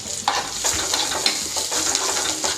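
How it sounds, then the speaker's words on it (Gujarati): Turmeric, mustard seeds, chopped green chili and curry leaves sizzle in hot oil for thin kadhi served with fafda, a close, crackling frying hiss with several spoon-stirring scrapes across a short stretch. "5 ચમચી હળદર એડ કરી દઈશું."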